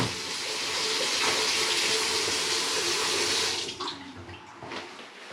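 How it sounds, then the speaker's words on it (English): A faucet runs full and steady after a house's water supply is turned back on during a Glacier Bay toilet install, then it is shut off and the rush breaks into sputters and drips. "as you heard the faucet come on"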